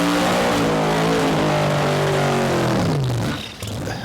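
A drag race car at a Street Eliminator meet powers down the track, its loud engine note climbing in pitch through the gears for about three seconds before the roar drops away as it pulls off into the distance.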